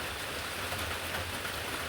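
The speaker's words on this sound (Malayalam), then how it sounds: "മഴ പെയ്യാൻ തുടങ്ങിയിട്ടുണ്ട്. ചെറുതായിട്ടേ പെയ്യുന്നുള്ളൂ" Light rain falling steadily just as a shower begins, a soft, even patter of drops hissing across surfaces throughout, with no voices.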